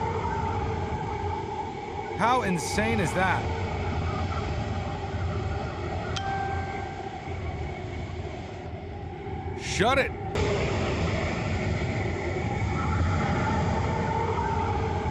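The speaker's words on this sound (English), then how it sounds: "Like a freight train, that wind is blowing through this city" Steady roaring wind from Hurricane Ida blows through an open door, broad and continuous, with someone speaking over it and brief whooshing surges.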